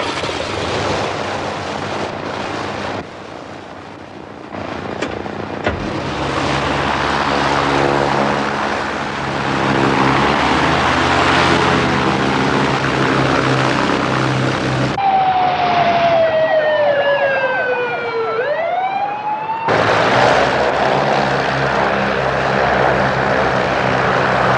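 A propeller airplane engine runs steadily on the ground during a pre-takeoff run-up while holding short of the runway, a loud continuous drone; partway through, a rising and falling siren-like whine briefly cuts in before the engine noise returns.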